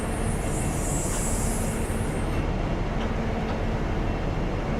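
An HST train in a train simulator game running over a crossover, heard as a steady, dense rumble of wheels on track, with a high hiss for the first couple of seconds that then cuts out, close and continuous.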